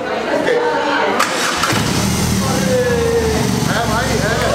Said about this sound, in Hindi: तो अब वो घड़ी आ चुकी है जब मैं स्टार्ट करने वाला हूँ